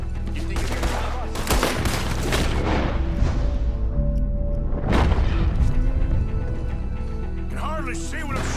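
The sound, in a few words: gunfire in Red Dead Redemption 2 video game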